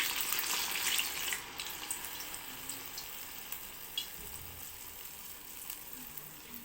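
Urad dal vadas fry in hot oil, a steady, moderately loud hiss and sizzle with small crackles that eases slightly after the first second and carries on without voices.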